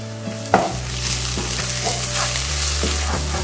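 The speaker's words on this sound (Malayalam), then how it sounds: "അതും കൂടി ഇട്ട് കൊടുത്തിട്ട് എല്ലാം കൂട്ടിയിട്ടൊന്ന് ഇളക്കി കൊടുക്കാം" Spice masala for bhindi masala, with okra, stirred in a hot pan: a loud sizzle with a spoon scraping and knocking against the pan several times, close and steady, with no talking.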